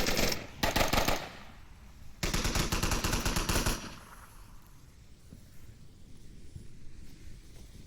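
Automatic gunfire in the VR shooter Onward, two loud close bursts of rapid shots separated by a pause, then quieter scattered distant rattling.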